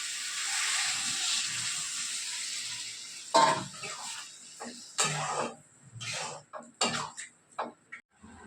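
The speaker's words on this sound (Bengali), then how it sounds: "কষানো হয়ে গেছে, জলটা দিয়ে দিচ্ছি।" Water poured into a hot pan of sautéed food in a home kitchen, steady loud sizzle and hiss at first, then choppy bursts of spluttering and stirring clatter that come and go.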